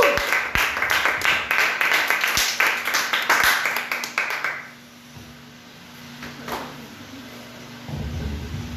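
Church congregation applauding, dense hand-clapping for about four seconds that fades into quiet room tone with faint noises afterward.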